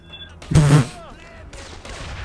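A burst of gunfire in the video game Deus Ex: The Fall gives a sharp, loud cluster of shots near the middle, followed by fainter game effects, with a voice talking over parts of it.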